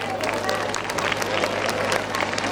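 An audience at a school event applauds the children's performance, dense steady clapping from a crowd with a faint murmur of voices underneath, sustained throughout.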